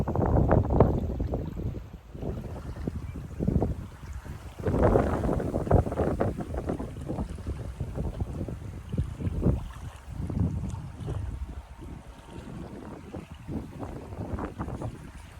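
Strong wind buffets the microphone in loud, uneven gusts outdoors in Saskatchewan, with rumbling low noise rising and falling throughout and no talking.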